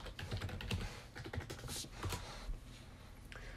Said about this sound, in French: Hop, je tape mon password.